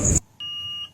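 One short electronic beep from a prepaid electricity meter warning of low credit, a thin high-pitched tone lasting under half a second after a brief burst of noise, fairly close.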